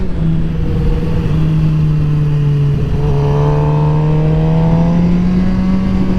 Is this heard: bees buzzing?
no